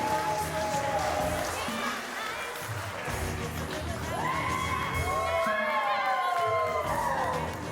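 Wedding reception guests cheer, whoop and clap after the couple's cake cutting, a lively near crowd with shouts and rising calls over a constant wash of noise, voices mixed through it.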